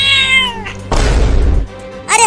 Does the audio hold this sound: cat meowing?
yes